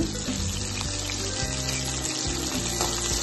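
Chopped onions frying in hot oil with cinnamon, cardamom and cloves in a kadai, a steady broadband sizzle with low rumble running continuously and evenly throughout.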